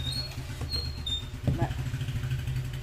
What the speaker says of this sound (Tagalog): Narinig niyo ba yung motor?